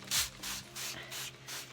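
Soapy warm water sprays onto felted wool in four quick hissing bursts from a spray bottle, evenly spaced and close.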